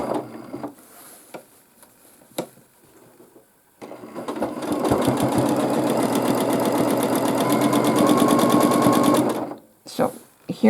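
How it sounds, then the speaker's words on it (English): A sewing machine quilts a baby quilt with a fast, even mechanical whir that runs steadily for several seconds, close and loud, framed by someone talking before and after. "So let's continue and quilt a little bit."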